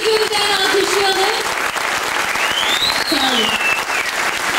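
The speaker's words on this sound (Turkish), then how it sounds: "Ve sağlık hocamızı bir kez daha şöyle bir canlı gönülden alkışlayalım." An audience at a music school concert applauding the teacher fills the hall with a dense, steady wash of clapping, and a voice and some musical tones rise over it.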